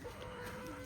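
Rooster clucking beside a village pond, a faint, distant fowl call under a steady wash of outdoor background noise, very brief.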